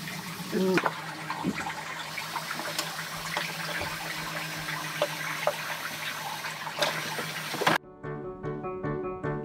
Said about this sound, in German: Da kommt gerade jede Menge Wasser raus.